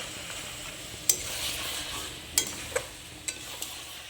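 Mutton stir-fried in a pot during kosha cooking, with a steady soft sizzle and several sharp spatula scrapes and knocks against the metal, close and fairly quiet.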